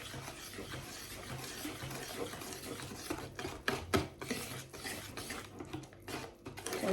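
A spoon stirring flour into eggless pie dough in a bowl, irregular scraping and clinking against the bowl's sides with soft mixing sounds and a few sharper knocks, close by.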